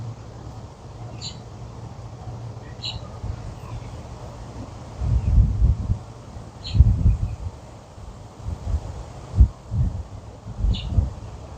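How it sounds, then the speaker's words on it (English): Low rumbling gusts buffet the microphone in bursts, loud and close, with faint birdlike chirps and rustling in the background. "I'm hoping you guys aren't picking up a lot of that wind noise."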